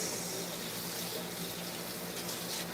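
Hot tap water pours steadily into a kitchen sink while a pan is washed, a continuous close hiss and splash with no voices.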